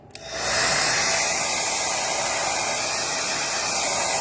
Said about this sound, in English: You want more hairdryer?